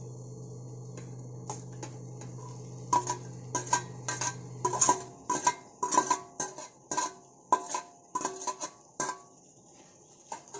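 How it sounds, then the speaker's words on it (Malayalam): Fried chicken pieces go into a pan of tomato masala, followed by a run of sharp, close metallic clinks and scrapes from a spoon stirring against the pan, irregular and fairly loud over a faint background hum. "ഇനി നമുക്ക് മുമ്പ് നമ്മൾ ഫ്രൈ ചെയ്ത് വെച്ചിരിക്കുന്ന ചിക്കൻ ചേർക്കാം"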